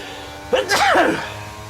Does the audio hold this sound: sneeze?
yes